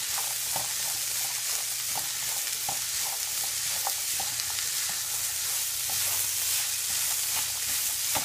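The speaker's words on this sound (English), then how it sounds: "The reason I'm stirring it so well is because I want the turmeric to come in contact with the fat" Vegetables and turmeric stirred steadily in hot fat in a pot for creamy vegetable soup, a continuous soft sizzle with repeated light scraping strokes at a regular rhythm, close and steady throughout.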